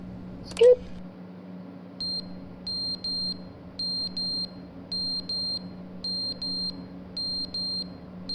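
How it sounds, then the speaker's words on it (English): Beeping alarm in The Stanley Parable video game: a steady run of short paired electronic beeps repeating at an even pace, fairly clear over a low background hum, after a brief thump at the start. "Damn it, that beeping."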